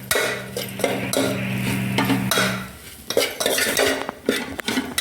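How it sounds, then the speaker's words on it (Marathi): Spoon stirring and scraping a dry-roasted matar kachori filling of peas with amchur powder in a pan, irregular clattering scrapes against metal with a faint sizzle beneath, close up, with no speech. "व्यवस्थित जिन्नस मिक्स करून घ्यायचे."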